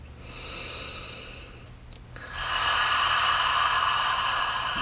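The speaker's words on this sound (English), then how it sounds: "A few more clearing breaths" Slow clearing breaths during a yoga session: a soft, long inhale followed by a fuller, louder breathy exhale, close to the microphone, with no words spoken.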